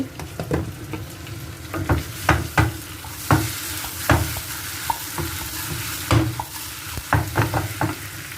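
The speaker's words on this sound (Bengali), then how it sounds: "বাড়ি থেকে আনা তেলাপিয়া মাছ বাড়ির পুকুরে এটাকে ভুনা করছি" Home-pond tilapia being stir-fried bhuna-style in a pan: a spatula scrapes and knocks the pan in an irregular rhythm over a continuous close sizzle.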